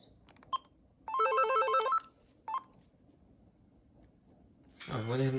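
An AT&T E580 cordless expansion handset rings for an intercom call from the base, with a short beep, a warbling electronic ring burst and another beep, followed by a second ring pattern as it begins again.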